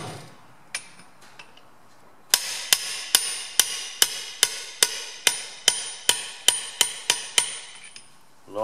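A 32mm socket is tapped repeatedly with a hammer to drive a seal into a clutch and flywheel grinder motor: about fifteen sharp, evenly spaced metallic knocks, close and clear, after a few quiet faint taps.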